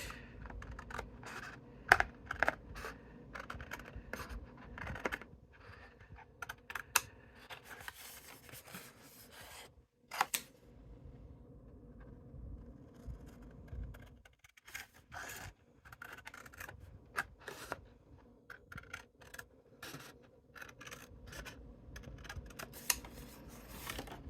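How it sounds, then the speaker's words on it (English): Scissors or a craft blade cut out a paper card template, producing close, quiet, irregular snips and rustling paper scrapes with brief pauses and no talking. "so I'm going to cut this one out"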